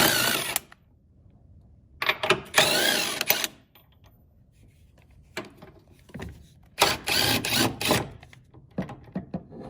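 A power tool spins bolts out of a 2008-2014 Cadillac CTS upper control arm with an 18mm socket, sounding in several separate bursts of whirring and ratcheting between quiet gaps, close by.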